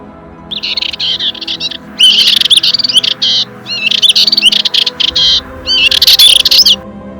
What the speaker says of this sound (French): ma copine, la fauvette Pichou.